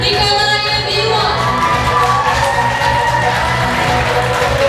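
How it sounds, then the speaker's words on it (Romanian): Audience applause and cheering at a school freshmen's ball, a loud, continuous crowd wash of clapping with shouts and music-like tones running underneath throughout. "Întâmpinați cu aplauze Nicolae Vimon!"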